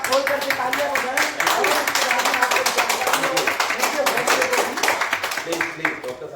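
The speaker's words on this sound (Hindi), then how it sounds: "दिल दिमाग खोल करके तालियां बजाएं" An audience at a crypto investing event applauds, a dense sustained clapping crowd that fills several seconds close by and fades slightly at the end.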